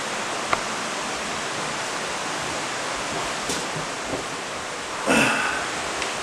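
Two creeks near the Heavener Runestone flow together in a steady, broadband rushing of water, continuous and fairly close, with a few faint knocks and a brief rustle near the end.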